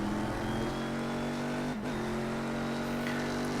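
Ford GT race cars in the iRacing sim roar with a steady, loud engine drone, the pitch holding nearly constant with a brief dip as a gear shifts or a car passes, and no talk.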